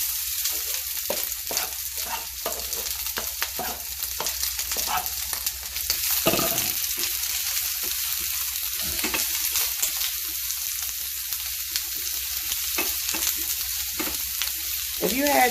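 Vegetables fry in a hot pan with a constant, moderately quiet sizzle and scattered crackles and pops throughout, no voices.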